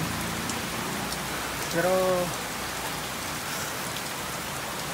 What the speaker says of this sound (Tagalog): Masyado malakas ang ulan talaga.